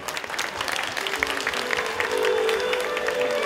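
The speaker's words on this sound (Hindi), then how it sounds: "उन सभी वॉलंटियर्स के लिए जोरदार तालियां बजाएं।" Audience applause at a Ravan effigy-burning event, honoring the volunteers who built the effigy; dense, continuous clapping from a crowd, steady and fairly loud for a few seconds.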